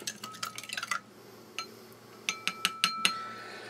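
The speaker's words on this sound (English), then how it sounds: "Obviously sugar granules as you stir there." A spoon stirs sugary drink granules from a French army commando combat ration, giving quick clinks against the cup in a fast flurry, a pause, then several sharper spaced taps, close and quiet with no talk.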